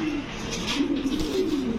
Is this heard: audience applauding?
no